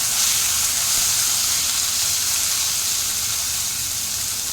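Chopped tomatoes and green chillies frying in hot oil in a pan for a tadka, a loud, continuous hissing sizzle that stays steady and close, gradually easing slightly, with no talking.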